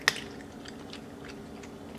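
Pet crunching on food, soft repeated chewing bites, close but faint, with one sharper click at the very start and no talking.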